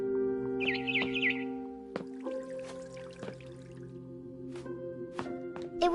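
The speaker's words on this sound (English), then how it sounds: "Then I heard chirping outside my window." A barn swallow chirps outside a window, with a quick burst of high twittering notes early on, over a steady background hum and scattered clicks and drips.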